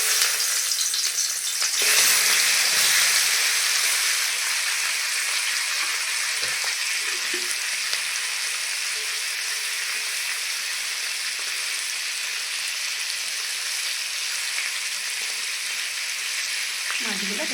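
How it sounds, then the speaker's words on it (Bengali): Magur catfish pieces, rubbed with salt and turmeric, fry in hot oil in a wok, producing a loud, sustained sizzle with scattered pops and crackles that runs steadily throughout, without speech. "কড়াইয়ে তেল দিয়ে দিয়েছি, তেল গরম হয়ে গেছে,"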